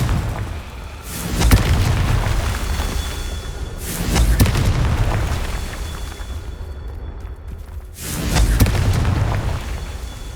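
Three heavy booming blasts of the Confringo fire curse from Hogwarts Legacy, each a loud deep burst that rings out and fades over rumbling game ambience, spaced a few seconds apart.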